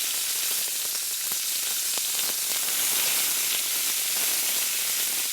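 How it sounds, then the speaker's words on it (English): Onions and potatoes sizzle and pop in a hot breakfast skillet, a steady close frying hiss broken by scattered sharp crackles and spits throughout, with no talking. "You want to hear that sound. The onions just start popping. The potatoes."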